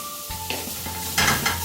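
Beef mince for samosa filling fries with added masala, spring onions and leeks in a pan, a steady sizzle under scraping stirs and a couple of louder clattering strokes near the end.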